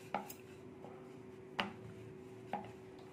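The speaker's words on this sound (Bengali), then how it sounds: "গোল করে আমি একটু বেলে নিচ্ছি।" Paratha dough rolled out with a rolling pin, giving three soft, spaced knocks of wood on the board over a faint steady background hum.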